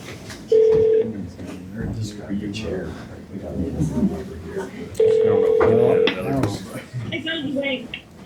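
A conference phone dials out on speaker, with two short steady tones sounding a few seconds apart while people talk in a meeting room.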